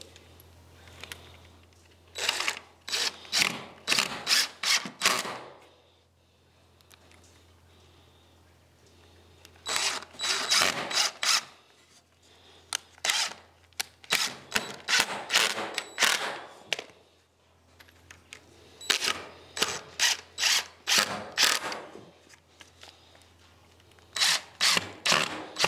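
Short screws driven with a power driver to fix corner braces on a wooden quail grow-out cage in a workshop, heard as three bursts of rapid clicking ratchet-like pulses with quiet gaps between, close and fairly loud.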